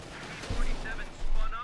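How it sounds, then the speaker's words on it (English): In Company of Heroes 2, gunfire hits a heavily armoured German tank, two heavy thudding impacts about half a second apart, over a commentator's continuous talk. "Shots bouncing off the Titan's armor there."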